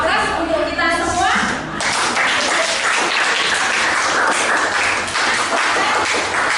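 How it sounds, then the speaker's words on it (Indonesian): Participants at a classroom session burst into loud, sustained applause, a dense wall of clapping that follows a brief spoken line and continues to the end. "Kita kasih aplaus untuk kita semua."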